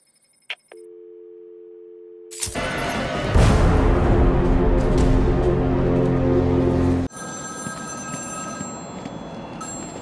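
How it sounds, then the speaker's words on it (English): A telephone rings in Batman: Arkham City: a brief electronic chirp, then a steady tone that gives way to a loud, rumbling burst of game noise, and finally a repeated high ringing tone on its own. "There's a phone ringing somewhere."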